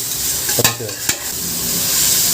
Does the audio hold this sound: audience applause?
no